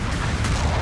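A sniper shot hits in Gundam Battle Operation 2, a dense booming blast of mech combat that fills the whole moment loudly and steadily without a clear single onset.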